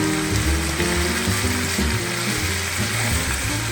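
Onions fry in a pan with a loud, close, steady sizzle and some clattering stirring underneath, with no talking.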